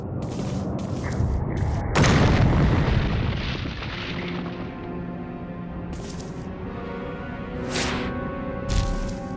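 Explosions in the video game Resident Evil HD Remaster: a loud broadband blast bursts out near the start, then rumbling decays under continuous game music, with smaller bursts following later.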